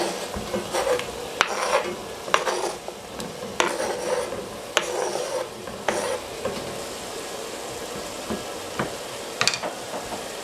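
Sliced zucchini tumbles into a pot of softening carrots and onions for heart-healthy minestrone, setting off a soft sizzle and scattered clinks and scrapes of stirring. Close and moderate in volume, with no talking.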